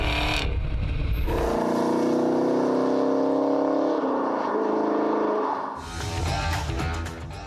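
Chevrolet Camaro with a 6.2-liter V8 accelerates hard, a loud, close engine note rising steadily through the gears for several seconds, then dropping back as the revs ease off.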